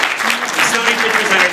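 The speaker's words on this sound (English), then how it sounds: "Big round of applause once again." Applause from a crowd at a Disney toy fair press event, dense and loud, rolling on without a break.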